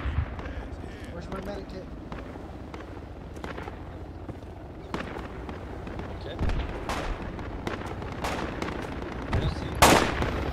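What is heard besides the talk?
enemy grenadier shooting and explosions in a video game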